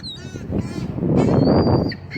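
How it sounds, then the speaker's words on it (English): Seagulls call loudly close by as they gather for raisins thrown to them, several overlapping cries and squawks continuing without pause. "We got more seagulls coming in."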